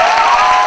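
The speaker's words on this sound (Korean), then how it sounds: "여기 박수 한번 쳐야지" Loud, dense applause fills a church hall for youth who completed a four-week new-member course, a steady close wash of clapping with no gaps.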